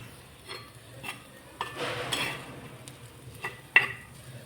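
Ground spice paste roasted in a pan, heard as soft stirring scrapes with a brief sizzle and a few clinks of a spoon against metal, fairly close.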